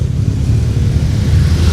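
Steady low engine rumble from a motorcycle on a busy street in Angeles City, Philippines, loud and close, continuous throughout without a clear pass-by peak or any talking.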